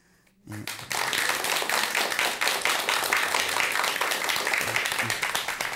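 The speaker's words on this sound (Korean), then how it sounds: "다시 한번 박수 부탁드리겠습니다" Audience applause following a letter read aloud at a Buddhist monk's talk show, a sustained burst of clapping from a crowd that starts abruptly and holds steady, loud and dense.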